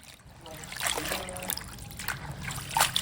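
Tangra fish and eggplant curry pours and trickles from a pot into a dish, a wet splashing dribble heard up close over low background noise.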